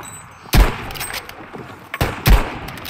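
Two loud, sharp gunshots from Battlefield V ring out about a second and a half apart, each a punchy crack with a short rumbling tail over quiet in-game ambience.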